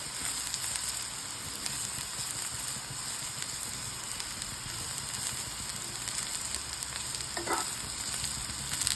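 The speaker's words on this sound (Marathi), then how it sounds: "आता ह्याच्यामध्ये आपण ॲड करत आहोत खोबरं. हे सुद्धा आपण भाजून घेणार आहोत." Grated coconut roasting in a pan for a mutton dish, a dense, even crackling sizzle with occasional stirring scrapes, close and constant, with no voices.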